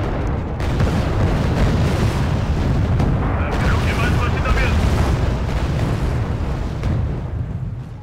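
Artillery fire and explosions rumble continuously in a Wargame: Red Dragon battle, a dense, loud wash of booms and low blasts with no gaps, fading slightly at the end.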